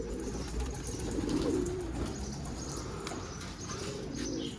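A loose pigeon gives a few low coos close by, with a light flutter of wings and faint chirps against quiet outdoor ambience; nobody speaks.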